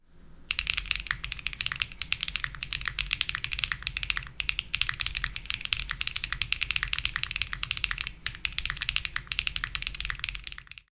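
Fast continuous typing on a gasket-mount mechanical keyboard with Leobog standard brown switches, a dense run of close, crisp clacks with a deeper thock underneath, steady for about ten seconds with no talking.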